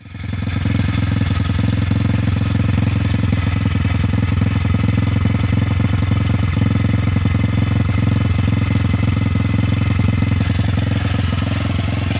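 A Honda Astrea Grand motorcycle fitted with a Tiger Revo exhaust idles steadily and loudly up close, its low mechanical rumble holding an even, continuous rhythm with faint clatter and no talking.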